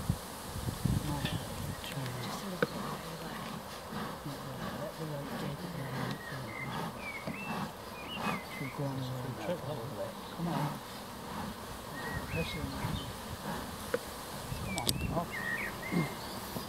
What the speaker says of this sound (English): there was that many bees that my young one got a bit stung